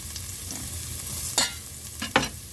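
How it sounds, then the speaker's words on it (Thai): Garlic frying in hot oil in a pot, a steady close sizzle with a few sharper stirring scrapes and crackles near the end. "นำกระเทียมลงมาเจียวนะคะ"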